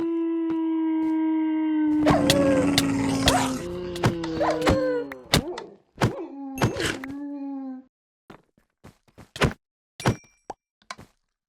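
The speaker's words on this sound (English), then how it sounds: "there's like pressure plates and different things around that make noise, like this gas noises" Pressure-plate gas traps in the Minecraft ATM10 modpack give off wailing, moaning tones mixed with sharp thunks and clicks, then a scattered run of brief knocks as the sounds thin out toward the end.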